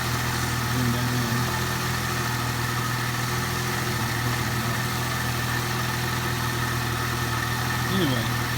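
A 2004 Mercedes SLK 320 engine idles steadily while warming up, a constant low hum with a faint vibration, and a person talks briefly over it.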